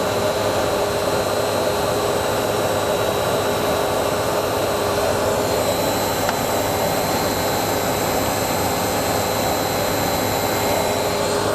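A pump at its drive-end bearing runs loud and continuous with a steady whining hum and broadband rush, unchanging throughout, recorded close up during a vibration measurement.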